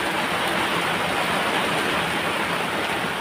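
Heavy rain pours in a dense, even roar of hiss that stays loud and unbroken throughout, with no voices.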